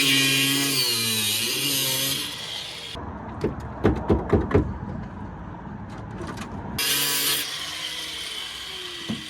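A grinder cuts the trunk out of a car body, a loud continuous metallic whine at the start and end, with a rougher stretch of thumps and rattles between, no talk.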